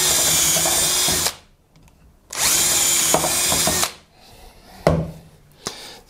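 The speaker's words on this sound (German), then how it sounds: "Und dann bohren wir das Ganze nochmal komplett durch." Power drill boring through a wooden scaffold board: two loud, close bursts of whirring and grinding, each about a second long, separated by quiet, followed by a few sharp knocks and clunks.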